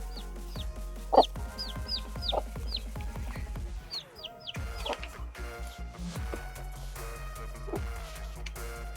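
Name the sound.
chickens and rooster clucking on a farm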